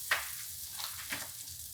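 Chopped garlic frying in butter for a snow pea and shrimp dish, giving a steady close hiss of sizzling with a few brief stirring scrapes and no talking.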